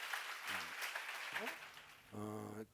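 A church congregation claps briefly in a short burst during a sermon, quiet and somewhat distant, while a preacher's voice speaks before it and over it.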